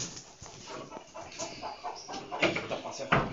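Free-range chickens cluck on a rural farm, a scattered run of short clucks and squawks at close to middle distance over a noisy background with people faintly talking.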